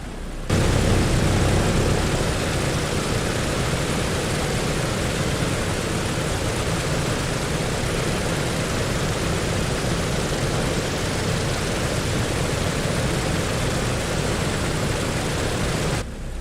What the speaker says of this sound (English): we should be ready to go to start engine number 1